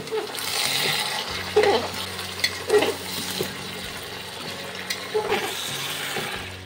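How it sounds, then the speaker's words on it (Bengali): Mutton is frying with browned onions in a pan for a traditional Rajasthani mutton curry: a soft, continuous sizzle broken by several louder clattering stirs of a spoon against the pan. "এবারে আমি মাটনটা দিয়ে দিচ্ছি। পেঁয়াজের সাথে 2-3 মিনিট আমি এটাকে ভেজে নেব।"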